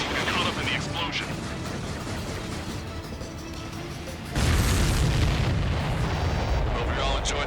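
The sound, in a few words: explosion in a video game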